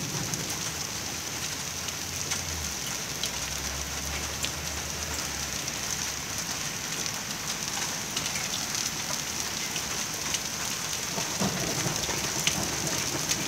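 Hailstones fall in a dense, steady hiss and patter during a summer storm in Saarland, Germany, continuous and fairly loud throughout with no voices.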